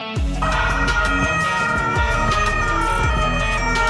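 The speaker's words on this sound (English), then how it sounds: "This is the police vehicle of Poland." A Polish police car siren wails loudly and steadily throughout, its rising and falling tone running continuously close by with low rumbling underneath.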